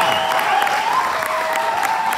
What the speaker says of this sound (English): That applause.